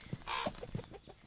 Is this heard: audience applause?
no